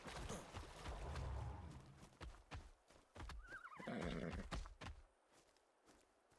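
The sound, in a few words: horse neighing in the video game ARK Survival Ascended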